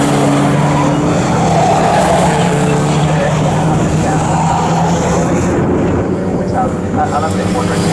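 A Triumph TR4 race car with other cars at Snetterton gives a steady, loud engine roar under continuous commentary, with a broadband rush of passing cars throughout.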